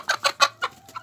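A Barbary rooster clucks in a quick series of five short, close calls, evenly spaced, with a faint low hum underneath.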